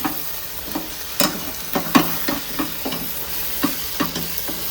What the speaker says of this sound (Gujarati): હવે આપણે એને બધા મસાલાને મિક્સ કરી દઈએ.